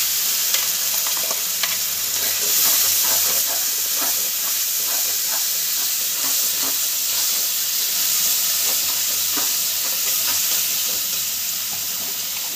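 A ground paste of onion, ginger, garlic and tomato fries with vetki fish bones in a pan, giving a steady, close hissing sizzle with scattered spatter crackles and stirring scrapes throughout.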